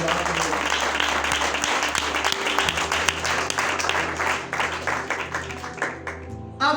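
A church congregation breaks into sustained applause, a dense wash of clapping that rolls on for several seconds and thins toward the end, with a voice speaking over it.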